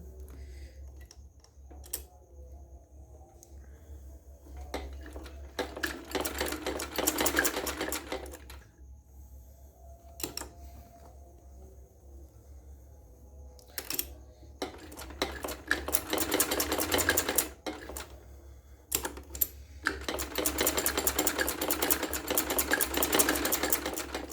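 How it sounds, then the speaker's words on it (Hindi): Domestic sewing machine stitching the collar of a kurti, running in several bursts of rapid mechanical whirring separated by quiet pauses with light handling clicks of fabric and the machine. "अब ये ऐसे रख के सिलाई करते हैं।"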